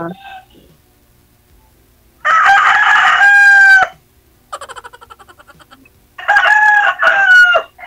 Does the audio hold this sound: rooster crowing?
yes